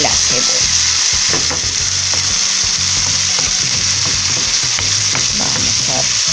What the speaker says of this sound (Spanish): Y a freír también bien el ajo y la cebolla.